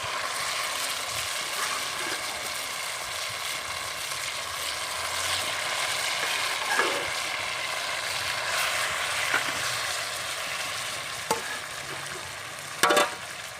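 Green chilies and mustard greens frying for Punjabi sarson ka saag, a continuous hissing sizzle with intermittent stirring scrapes and a few sharper knocks of the spoon near the end.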